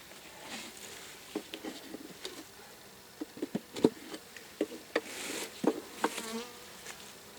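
Honeybees buzzing as a colony is moved from a log hive into a box hive in March, a steady close hum with scattered sharp knocks and clicks of handling throughout.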